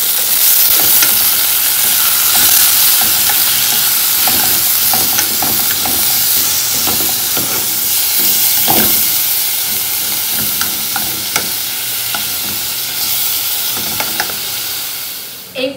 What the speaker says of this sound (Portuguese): Agora eu vou colocar um pouquinho de óleo na panela, só pra não grudar, né?